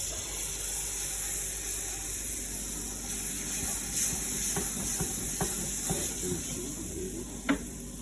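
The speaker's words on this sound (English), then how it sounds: "I'm gonna put some more butter in the pan. And let the butter melt." Butter melts in a pan for a Thanksgiving meal, giving a steady, fairly quiet sizzling hiss throughout, with a few soft clicks and a brief knock near the end.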